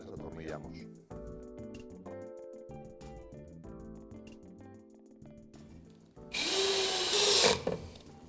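Cordless power drill driving screws through roof tiles into wooden battens on a ventilated roof, heard as one loud, rising whir of about a second near the end, after steady tonal sounds.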